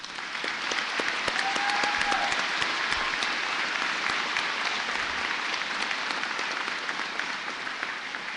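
Audience applause for graduates at a 2014 Terra Community College commencement, steady sustained clapping from a large crowd in a hall, lasting the whole stretch at an even level.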